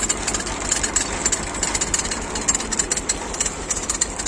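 A tractor-driven pumpkin harvester and windrower running in a field, a loud steady engine drone with rapid rhythmic mechanical knocking and clatter, close by and without talk.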